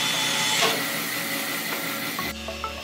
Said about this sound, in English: I used the table and bandsaw to resaw 5/8-inch blanks